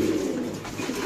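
Pigeons coo softly and steadily at a pigeon market, a short stretch of low, throaty calls with faint background noise.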